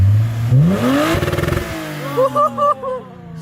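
A Lexus IS250 with an HKS Hi-Power exhaust revs up, then the exhaust pops and crackles from the two-step launch limiter in a quick series of sharp bangs, loud and nearby.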